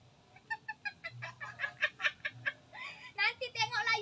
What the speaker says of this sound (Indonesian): ada ayam lari.